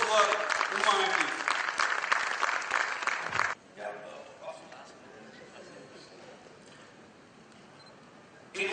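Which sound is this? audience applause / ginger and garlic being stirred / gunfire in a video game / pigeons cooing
audience applause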